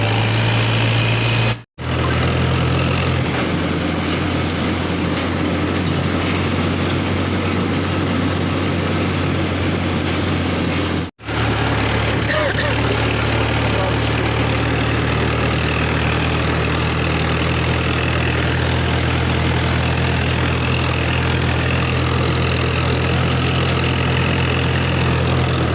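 A Mahindra 475 DI tractor engine drones steadily and loudly on a tar road, a low continuous chug with two brief dropouts, and no talk over it.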